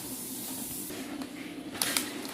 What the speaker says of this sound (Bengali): ফটাফট ভেজে নেই পাঁপড়গুলো